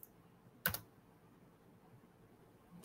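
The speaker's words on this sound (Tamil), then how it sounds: "தீத்தே பட்டன் இருக்கும் தெரியுங்களா உங்களுடைய கீபோர்ட்ல, அந்த பட்டன் அழுத்துங்க" A single key on a computer keyboard is pressed once, giving a sharp, close click against an otherwise near-silent room.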